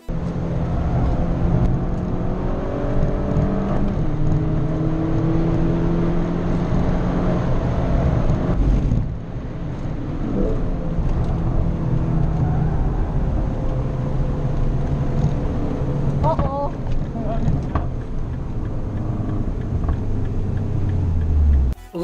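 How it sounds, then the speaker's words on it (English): A Mini driven on a race track during a track day, its engine droning steadily with shifting pitch for most of the run, a brief dip midway, then a sharp drop at the end. "Moita and I recently took the Mini for our first track day with the car"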